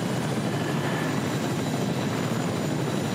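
A helicopter in Fortnite gameplay, its rotor and engine a loud, steady roaring drone that fills the moment without a break and with no talk over it.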